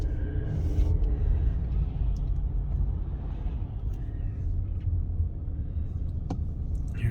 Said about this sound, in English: here are the cars coming from the other side.